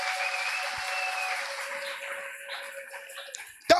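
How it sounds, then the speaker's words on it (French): A church congregation applauding in praise during a sermon, a brief burst of clapping that fades out over a few seconds. "Acclame le Seigneur."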